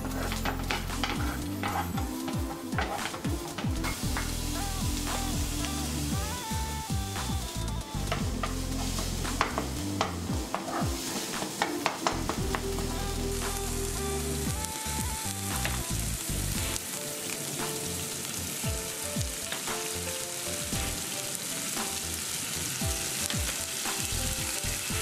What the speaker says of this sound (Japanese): 生姜とニンニクを炒め、